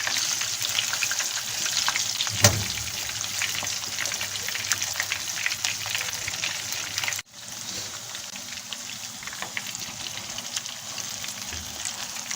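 Khagga fish fries in a pan over heat that has been turned low, giving a continuous crackling sizzle with scattered pops and a brief louder spatter near the start.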